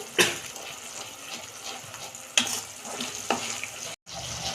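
New flat beans being sautéed with spices in a pan, giving a steady close sizzle with a few sharp scrapes of a spoon stirring and a brief cut-off near the end.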